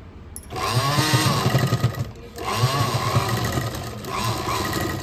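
A sewing machine runs a seam along a saree, its steady mechanical whir going in two sustained bursts split by a short pause and then carrying on, loud and close, with no voices.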